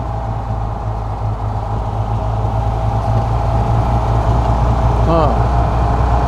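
A 1935 Horch 830 BK engine idles with a steady low, even, throbbing rumble, close and constant throughout.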